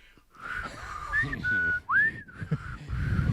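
A person on a radio sports talk show whistles a few short, wavering notes that rise and bend, close and fairly loud, with brief studio murmur around them.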